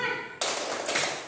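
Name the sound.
class clapping the 'tepuk semangat' clap chant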